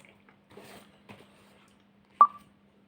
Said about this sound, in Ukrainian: Що далі якась смс-ка прийшла?